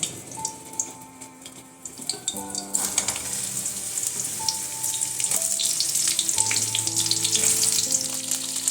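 Ridge gourd pieces hit hot oil in a pan and fry with a loud, steady sizzle that swells after a moment, close and continuous, with a few clinks of utensils and some tonal kitchen hum underneath.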